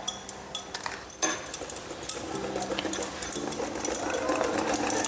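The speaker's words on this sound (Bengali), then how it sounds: "ভালো মতো ফেটে নিচ্ছি" Batter for eggless mango cupcakes, mixed with baking powder and baking soda, is whisked briskly in a bowl, giving quick repeated metallic clinks and scrapes close by. Talk runs beneath the whisking.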